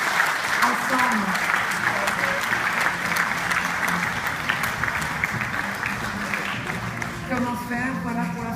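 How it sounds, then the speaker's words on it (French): A crowd applauds at a prize presentation, the Crédit Agricole award ceremony for CECF, with dense, sustained clapping, loud and close, while voices talk faintly underneath. "on peut les applaudir encore ce soir"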